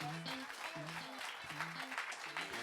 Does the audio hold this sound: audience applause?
yes